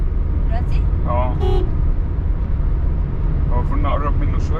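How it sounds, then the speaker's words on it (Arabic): A car horn gives several short honks, aimed at a truck ahead in busy road traffic. The honks sit over a steady engine and road rumble, and people talk throughout. "يلا تعالي ندوس بنزين سنه وندي كلاكس تنبيه كده"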